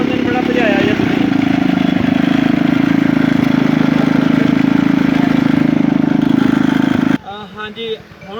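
A 200 cc mini tractor engine runs steadily and loudly up close with a constant low drone, then cuts off abruptly near the end, leaving quieter background noise.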